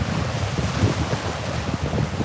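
Storm winds blow hard across Cameron Lake near a highway, a dense, continuous roar of gusts buffeting the microphone with rushing low rumble and steady broadband hiss, with no one talking.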